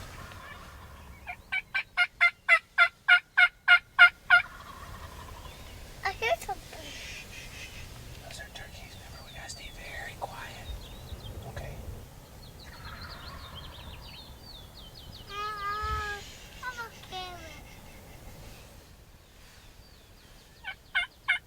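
Wild turkey toms gobble from a Michigan hunting blind, a loud rapid rattling burst near the start followed by fainter, more distant gobbles and clucks, with soft whispering in between.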